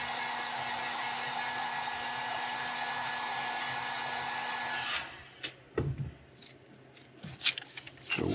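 A hair dryer blows steadily and loudly over a freshly painted fishing lure coat, then shuts off halfway through, leaving handling noises and small clicks.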